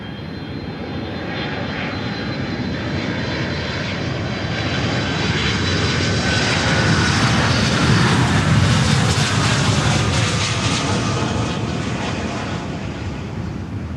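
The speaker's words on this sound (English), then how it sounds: "Next arrival 757-200 Delta from Atlanta" A Delta Boeing 757-200 jet arrives at Miami airport with a loud, sustained engine roar that swells and then eases slightly as it passes close by.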